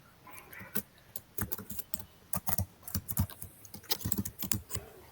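Rapid, uneven keystrokes on a computer keyboard clatter close by in short bursts and pauses, with no voices.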